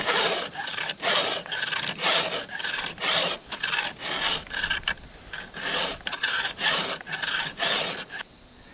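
Chainsaw chain tooth being sharpened with a 5/32 round hand file, a steady run of rasping forward strokes at close range, about fifteen in quick rhythm with short gaps between them, loud and unaccompanied.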